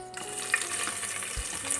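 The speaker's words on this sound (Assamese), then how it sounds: "এতিয়া মই ইয়াত দিম কাটি লোৱা পিঁয়াজ" Chopped onions go into hot ghee for a pulao and fry with a steady, close sizzle, plus a brief low thump partway through.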